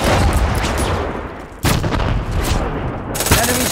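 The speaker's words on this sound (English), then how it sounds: "It's a frag grenade!" A frag grenade blast and heavy gunfire in the video game Brink, a loud dense barrage of shots with a sharp explosion about halfway through and more firing after it.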